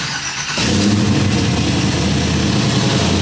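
A Chevrolet Chevelle engine, just fitted with a 20-gallon fuel tank, cranks briefly and catches, then settles into a loud, steady, rumbling idle at close range.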